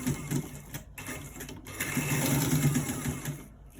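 A straight-stitch sewing machine stitches a buttonhole, its motor and needle running in a steady, close mechanical whir with brief pauses and stops between runs.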